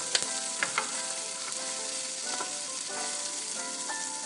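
Oil being stirred in a frying pan while making a curd and chili side dish, a steady crackling sizzle with a few light scraping knocks of the spoon, close by and without voices.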